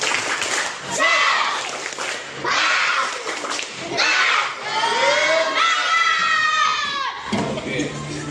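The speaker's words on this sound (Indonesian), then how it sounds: "Tepuk semangat!" A classroom of young children performs a lively clapping chant led by their teacher, with loud rhythmic claps, shouted chanting voices and cheering coming in repeated bursts.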